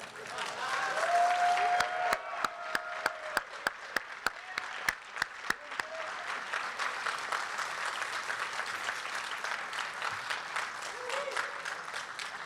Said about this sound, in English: You can keep clapping if you want.